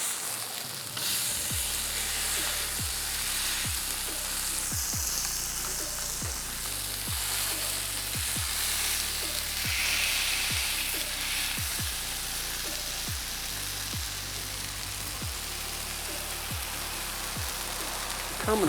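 Green chili potato cakes with cream cheese frying in a pan give off a loud, continuous sizzle and crackle for a long stretch, with periodic low clunks from the pan and no voices.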